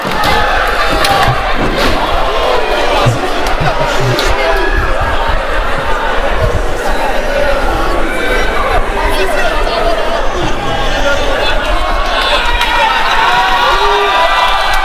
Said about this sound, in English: The crowd firmly behind the hometown favorite in the statement.